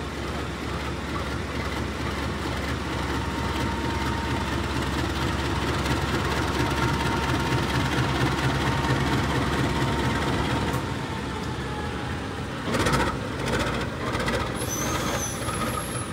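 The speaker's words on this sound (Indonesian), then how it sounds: "Ini dia rangkaian kereta api Kahuripan tengah dilangsir mundur ya teman-teman" Kahuripan passenger train rakes being shunted in reverse by a locomotive at Cipinang depot in Jakarta, a steady loud rumbling engine drone with mechanical clanking, then a brief burst of hiss and high squeal near the end.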